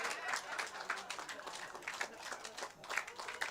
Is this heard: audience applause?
yes